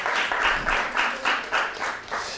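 A studio audience on a French television show applauds, a moderately loud burst of clapping that swells and fades in several quick waves over a couple of seconds.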